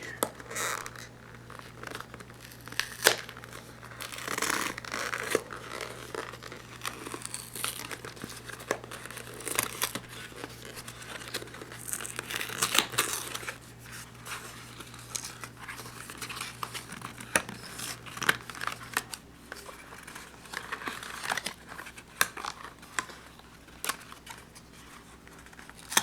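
A Magic: The Gathering Shallow Graves starter deck being unboxed and torn open, with close, continuous crinkling of wrapping and packaging, scratchy tearing and rustling in uneven bursts.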